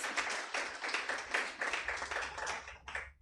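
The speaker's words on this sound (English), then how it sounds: "Let's kindly give him another round of applause." Audience applause at a Takaful and Retakaful regulations event, made up of many hands clapping in a brisk, uneven patter that stays fairly close and fades near the end, with no voices over it.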